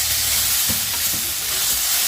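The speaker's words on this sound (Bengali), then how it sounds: "তো এই যে আমি আলু ভাজাটা করে নিচ্ছি" Potatoes fry in a pan with a continuous loud, close hissing sizzle and occasional soft stirring scrapes, steady throughout with no talking.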